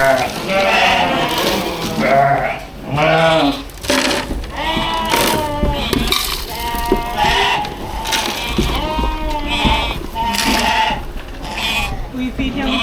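Several sheep bleat repeatedly and loudly at close range on a farm during hoof trimming, their wavering calls overlapping one another while people talk nearby.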